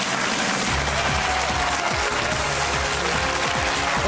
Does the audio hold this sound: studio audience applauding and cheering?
yes